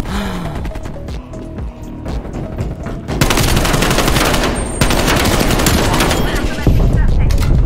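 Loud, sustained automatic gunfire in a shooter video game, dense bursts with heavy booms that continue almost without pause and grow more intense partway through.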